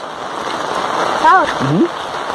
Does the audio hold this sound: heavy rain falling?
yes